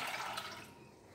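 Water pours into a food processor holding a cup of walnuts, a brief, fairly close rushing splash that fades toward the end.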